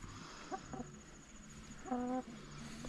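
Chickens clucking at night on a farm, a few short clucks early, then a louder, drawn-out squawk near the middle, fairly close over steady background hum.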